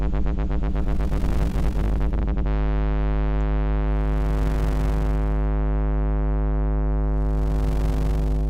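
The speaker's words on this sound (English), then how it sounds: "So the sine wave output, if in doubt go with sine waves" Modular synthesizer sine wave output: a rapid run of chirping, pulsing tones gives way to a sustained, stacked steady tone with a deep bass hum, loud and continuous throughout.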